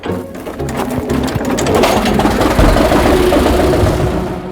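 An old kerosene-fuelled tractor engine cranks into life and settles into a loud, rattling, rapid chug close by.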